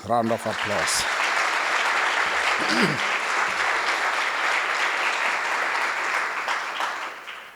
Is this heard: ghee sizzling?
no